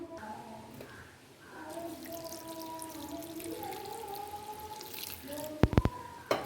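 Water poured into a pot of lentils with salt and turmeric for cooking, a soft, fairly faint splashing pour mixed with steady background tones, ending in a few sharp clicks.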